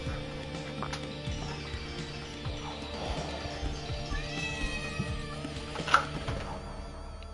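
A cat meows a few times against a busy background of low rumble and clatter, with one brief sharp squeal near the end.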